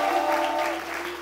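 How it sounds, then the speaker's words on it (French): Brief burst of applause from a crowd, steady clapping throughout with a faint sustained tone underneath. "on applaudit fort."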